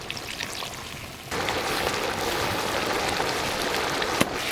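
Cornflour water pours in a steady stream into a hot pan of sauce, starting abruptly after a quieter moment and continuing with a soft bubbling hiss, close by.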